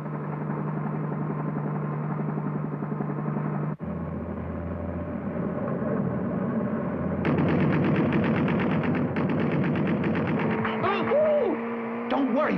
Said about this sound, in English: They're wasting their bullets on us.